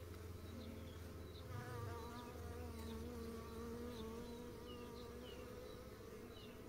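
Honey bees in a Kenyan top-bar hive make a dense, steady buzz that never lets up, with individual bees whirring in and out close by. No voices are heard.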